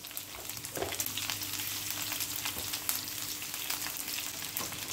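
Generous handful of curry leaves frying in hot oil with chopped green chillies for a curry-coriander gravy, a steady close crackling sizzle with sharp pops throughout.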